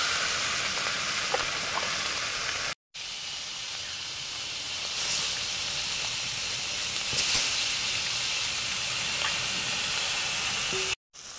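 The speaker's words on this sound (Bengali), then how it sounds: "তেল দিয়ে ভেজে নিচ্ছি। মাছগুলো ভেজে নিচ্ছি।" Fish fries in hot oil, a loud, continuous hiss with faint crackles running unbroken except for two brief cuts.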